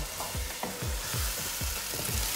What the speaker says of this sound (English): Adding the chickpeas in